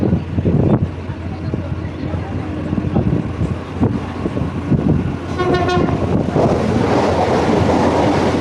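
A Mumbai suburban train at Mahim Junction rumbles and clatters nearby, a horn sounds briefly partway through, and muffled voices murmur under the train noise.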